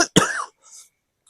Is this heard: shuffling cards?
no